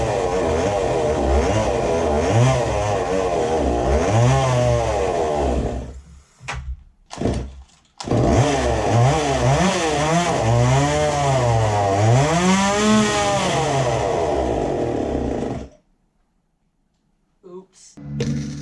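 A dirt bike powered by a chainsaw engine runs close and loud, its rasping engine note revving up and down in repeated swoops. It sputters and cuts out briefly, restarts for another run of revs, then dies with a short final cough.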